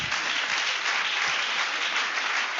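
A church congregation applauds steadily and loudly throughout, a dense continuous wash of clapping with no pauses and only faint voices mixed in.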